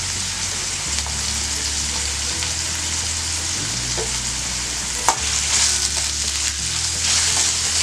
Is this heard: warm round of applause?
no